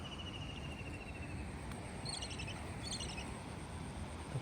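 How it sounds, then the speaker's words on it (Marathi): Kingfisher calling outdoors near a flooded river at a fishing spot in Kharoshi, Pen, giving a few short, high, chattering bursts of faint calls over steady outdoor ambience with insect-like background noise. "खंड्या पक्षी बघा कसा आवाज येतोय"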